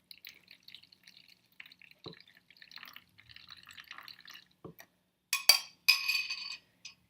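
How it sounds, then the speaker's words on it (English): Gelatin solution poured into a small food storage container, with faint trickling and dripping followed by a few louder clinks and splashes near the end. "I'm basically going to pour this solution into the container until it's about 1/2 inch thick on the bottom"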